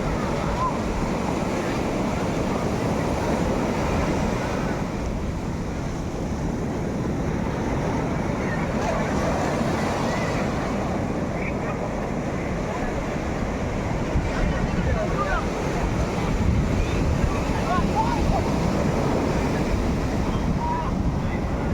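Sea waves wash steadily onto the shore of a beach in Chennai in the morning, with a continuous broadband roar and wind buffeting the microphone throughout.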